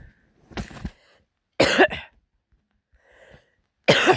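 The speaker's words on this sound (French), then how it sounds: "Bon, je tousse un peu." Three separate coughs break a near silence, each a short harsh burst, the first softer and the last two louder, with a faint throaty sound between.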